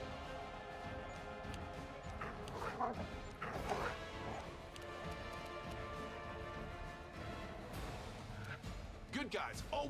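Several dogs bark and yip in the fantasy video game Pathfinder: Wrath of the Righteous, mixed with smashing combat impacts and thwacks, a busy layered battle din with speech over it.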